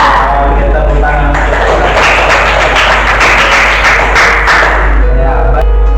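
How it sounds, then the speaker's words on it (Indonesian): A classroom of students clapping together during a lesson, loud and close with a busy, uneven patter of hands and a low hum underneath, the clapping thinning out toward the end. "Kita tepuk tangan."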